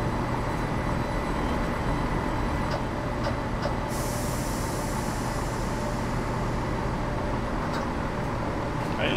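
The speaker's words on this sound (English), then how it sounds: "Okay, so again, let's let the train come to a stop." A train in Train Simulator 2015 rumbles on at a steady low roar as it comes to a stop, with a faint hiss rising partway through and a few small clicks.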